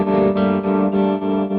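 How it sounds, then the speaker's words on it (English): Sustained electric guitar tone run through a long reverb and a Tremuntana tremolo pedal, pulsing with a steady rhythmic swell and dip, loud and close with washy trails and no voices. "Gonna kick on a longer reverb here"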